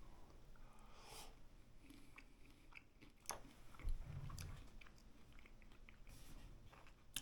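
Close chewing of a ham and chicken casserole with a creamy bacon topping, soft irregular bites and crunches with a few snorts and sniffs of breath, quiet and alone without talk.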